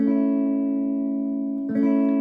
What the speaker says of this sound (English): if I strum the whole chord